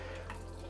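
Water from a shower head rinses a shower floor, giving a steady, faint splashing spray with a low hum beneath.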